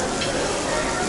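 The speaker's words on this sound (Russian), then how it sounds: "Здесь жарят рыбу" Steady, dense sizzling of fish frying in hot oil at an all-inclusive hotel buffet in Alanya, Turkey, close up and continuous with no pauses.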